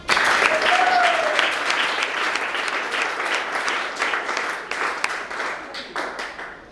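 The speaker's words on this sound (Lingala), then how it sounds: "Sur ce, je vous prie encore de les applaudir." An audience at a women's economic empowerment event applauds in a long, dense burst of clapping that starts abruptly, holds steady, then thins out slightly toward the end, loud and close with a faint whistle early on.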